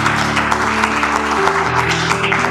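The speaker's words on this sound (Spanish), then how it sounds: "¿Cuánto le dan un aplauso al Señor por eso?" A church congregation claps steadily throughout, the dense applause laid over sustained tones that sound like a keyboard playing underneath.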